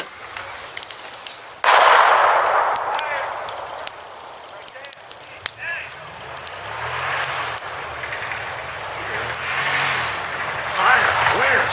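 Gunshots ring out near a campsite at night, with sharp sudden cracks and pops spread unevenly across the clip among rustling and movement, while people talk and whisper close by.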